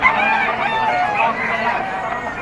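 Roosters and stag gamecocks crow loudly and close by at a Malabon poultry and pet market, one long drawn-out call over a busy background of other birds.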